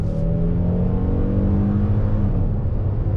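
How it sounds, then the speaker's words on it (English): A 2021 Kia Telluride V6 all-wheel-drive SUV engine hums and rises in pitch as it accelerates smoothly, a moderate steady drone with no talking. "Engine is actually not very loud, especially for a V6."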